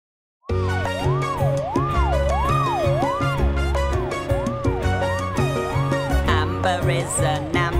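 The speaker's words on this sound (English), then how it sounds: "has a siren to warn us when she's driving fast" A cartoon ambulance siren from Gecko's Garage wails in steady rising and falling sweeps, loud and continuous over upbeat children's music.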